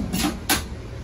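A storage drawer in the workshop racking of a 2014 Mercedes-Benz Sprinter 313 service recovery van slides open or shut, two quick close rattling slides within a second over a steady background hum.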